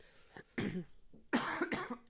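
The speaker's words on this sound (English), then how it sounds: "Sorry for all the coughing." Several harsh, rough coughs from a person with COVID in close succession, loud and near, with a throaty, chesty quality and no talking.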